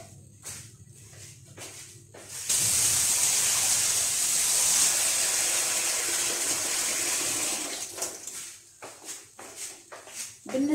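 Water pours into a cooking pot of rice for a simple rice-and-chicken dinner, a steady loud gush running for about five seconds between quieter shuffling handling sounds.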